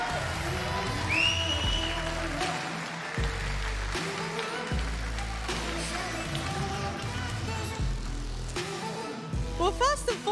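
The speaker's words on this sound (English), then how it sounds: "you heard the cheers of the crowd" A crowd at an esports championship in Birmingham claps and cheers steadily throughout, a dense rolling applause with bouncing thuds and bursts of excitement, while a voice talks over it.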